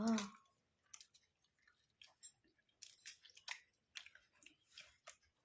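Someone eating hot home-cooked food on a winter night makes soft, close chewing and squishy mouth sounds in irregular bursts, with a brief voice at the very start.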